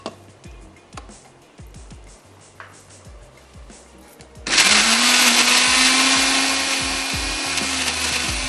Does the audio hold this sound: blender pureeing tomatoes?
yes